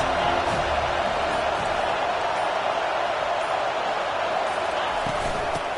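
A large stadium crowd at an Alabama football game roars continuously, a loud, sustained wall of cheering and noise that holds steady throughout with no clear breaks.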